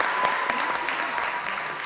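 Studio audience clapping on a comedy talk show, a dense, even roll of applause that holds steady throughout, fairly close and without any speech over it.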